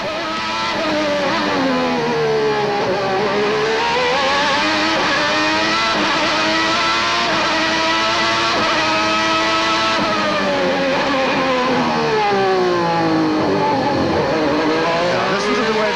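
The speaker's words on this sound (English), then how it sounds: "Listen to the Ferrari." A high-pitched 1990 Ferrari Formula One engine screams continuously and loudly at the Australian Grand Prix, its pitch rising and dipping repeatedly as it accelerates and brakes through corners.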